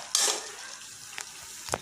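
Food fries in a pan while a utensil stirs it, a soft steady sizzle with a brief scrape at the start and small clinks near the end.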